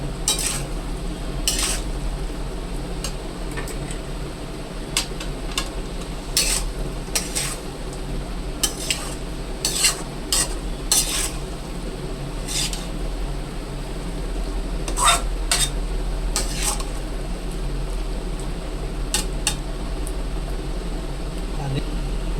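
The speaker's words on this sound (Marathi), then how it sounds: "आणि हे सगळं आपल्याला मिक्स करून घ्यायचं आहे व्यवस्थित" A spoon stirs and scrapes veg kolhapuri in a pan, giving sharp irregular metallic clinks over a low steady hum while someone talks throughout.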